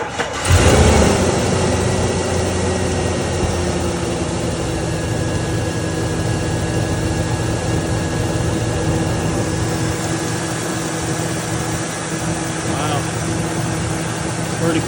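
A 2000 Chevy Tahoe 4x4 with a 5.3 L engine idles steadily and fairly quietly after getting a new AC clutch, bearing, pulley and tensioner. It keeps up a continuous hum for the full fifteen seconds.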